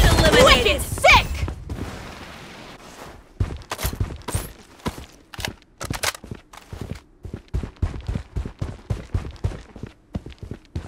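Gunfire in the mobile shooter Project BloodStrike, rapid clusters of sharp shots and clicks in uneven bursts after a loud opening blast, mixed with footsteps-like thuds in the game soundscape.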